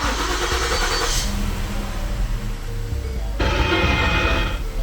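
A 2013 Ford Taurus engine cranks and turns over after a motor mount replacement, then settles into a steady idle with a bump in revs near the end; close and fairly loud, no talking.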